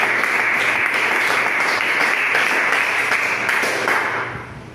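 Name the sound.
congregation applause in church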